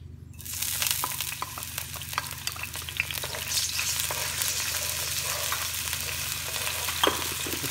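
Garlic sizzles steadily in olive oil in a hot pan, a close, continuous frying crackle with occasional stirring scrapes and no voices.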